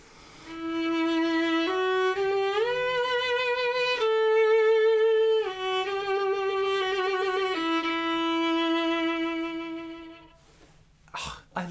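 A violin plays a short lyrical melody of gliding, sustained notes for about ten seconds, clear and close, followed by a few faint knocks and rustles.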